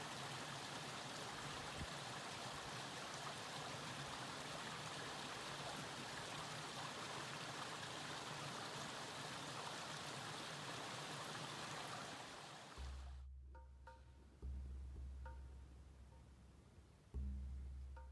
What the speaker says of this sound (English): I crossed Indian Brook itself as I finally followed the trail rising up the north end of the eastern ridge